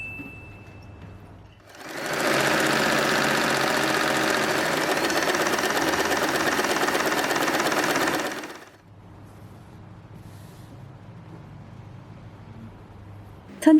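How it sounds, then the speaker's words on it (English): Sewing machine stitching folded fabric pieces for a bow turban hat, a steady loud mechanical whir running for several seconds, starting and stopping abruptly against a quiet background. "Fold it in half, and we're going to sew these parts"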